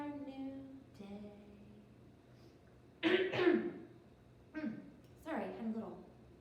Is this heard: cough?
yes